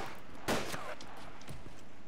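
Gunfire in the DayZ Breaking Point video game: one loud sharp shot near the start and a fainter second report, set against steady game ambience with no talk.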